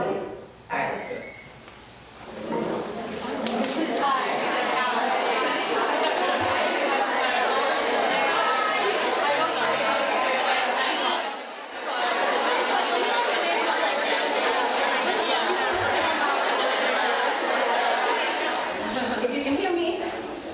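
A workshop audience breaks into pairs to introduce themselves, filling the room with loud, steady overlapping chatter from many voices, briefly quieting at the start and midway.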